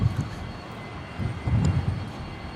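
A Rex airliner rolls for takeoff at Brisbane Airport, a low engine rumble that swells and fades in broad surges at a moderate distance, with no talk over it.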